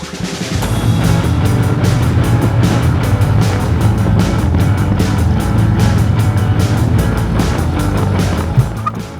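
Motorbikes ridden out toward Malibu give a loud, steady engine drone with rumbling low tones that holds for several seconds before easing slightly near the end.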